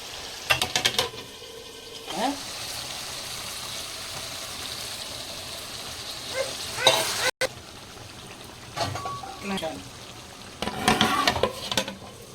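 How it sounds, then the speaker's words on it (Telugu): A spoon stirs kadai biryani in a pan over a steady sizzling, bubbling cooking bed, with scraping strokes at intervals and a brief sharp knock midway. "ఇట్లా మధ్య మధ్యలో కలుపుకోవాలమ్మా"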